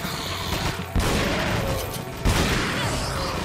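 Two heavy shotgun blasts from Resident Evil 4 Separate Ways, each a sharp loud boom about a second apart, set against a dense rumble of game noise.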